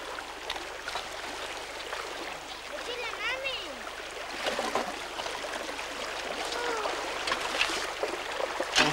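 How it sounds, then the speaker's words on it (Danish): Gravel and pebbles being washed in a gold pan in a river, water sloshing and splashing over a steady stream rush, heard under a narrating voice. "hvis man forsigtigt vasker gruset og småstenene væk, finder man guldet i bunden af panden"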